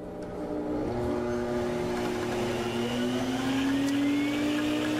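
Sirena water-based home cleaning system vacuum switches on and runs with a steady loud motor drone, its pitch rising slightly as it spins up, continuous and close with no talking.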